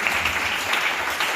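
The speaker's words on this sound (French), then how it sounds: "Est-ce qu'on peut acclamer le Seigneur?" A church congregation claps and cheers to acclaim the Lord, a brief, steady burst of dense applause.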